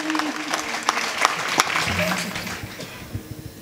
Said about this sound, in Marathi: सगळ्यांनी एकदा जोरात मोठ्यानं टाळी